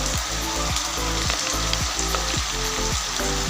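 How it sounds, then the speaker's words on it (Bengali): Ginger paste frying in a pan with potato and pointed gourd crackles in a loud, constant sizzle, broken by regular stirring scrapes and no voices. "আদা দিয়ে দিচ্ছি, আদাটা ভাজা হোক"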